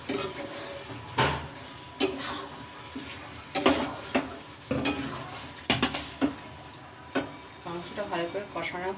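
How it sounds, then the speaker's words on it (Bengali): Chicken being stirred and fried in a pot with spice paste: a spoon repeatedly scrapes and clanks against the metal, and frying sizzles quietly underneath, in irregular bursts. "মাংসটা ভালো করে কষানো হলে তারপরে ভাজা আলুগুলো দিয়ে নেড়ে ছেড়ে তারপরে জল দিয়ে ফুটতে দিয়ে দেবো"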